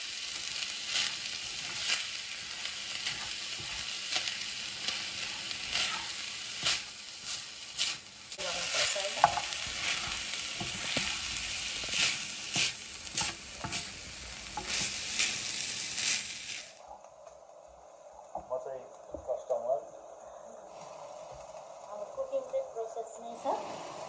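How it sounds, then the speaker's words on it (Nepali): Chicken keema noodles sizzle in a hot pan while being stirred, a loud crackling hiss with scraping stirs that drops to a quieter bubbling simmer partway through, with a person speaking over the cooking. "यसलाई चाहिँ फेरि हामी चलाउँदै अर्को 10 मिनेटसम्म पकाउँछु।"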